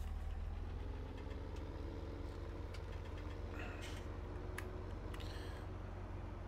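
A tractor engine in Farming Simulator during a grain harvest, a steady low idling drone with slight knocking that runs unbroken and fairly loud the whole time, with no talk over it.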